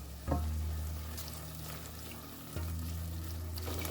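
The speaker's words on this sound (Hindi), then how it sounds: "अब इसमें हम डाल देंगे लहसुन अदरक का पेस्ट है, ये डालेंगे" Garlic ginger paste sizzles in a hot pan during home cooking of palak gosht, with a loud hiss as it hits the oil that settles into steady frying, then flares up again midway.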